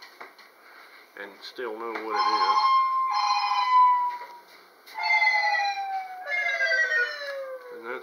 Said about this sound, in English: And that's my phone ringing.